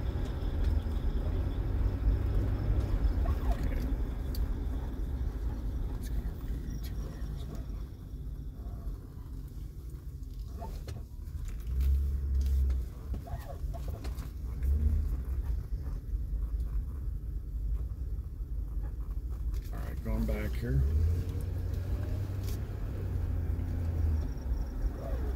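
A car drives along a residential road in Kansas City and turns around, a steady low engine and road rumble running continuously with slight swells as it slows and maneuvers, heard from inside the vehicle with no talking.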